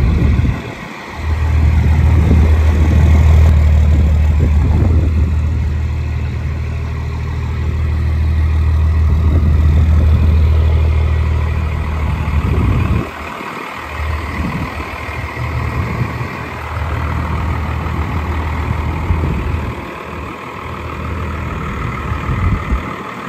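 A first-generation 12V Cummins diesel truck pulls out of a tight garage spot, its engine giving a loud, steady low rumble that dips briefly partway through before settling back to an even idle.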